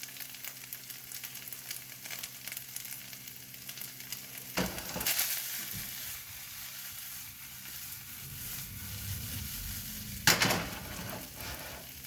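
Fried rice warming in a hot pan gives a steady, close sizzle with occasional stirring scrapes, and one louder clatter near the end.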